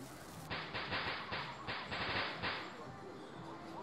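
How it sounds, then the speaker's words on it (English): A rapid string of sharp crackling pops from video game firecrackers, about eight bursts in quick rhythm, then fading off into quiet. "Got some firecrackers here."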